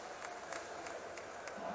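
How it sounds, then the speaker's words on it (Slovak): A home crowd in a football stadium applauds during a Fortuna Liga match between DAC 1904 and Nitra, a steady, fairly faint wash of clapping heard from a distance with slight swells. "Potlesk domácich tribún."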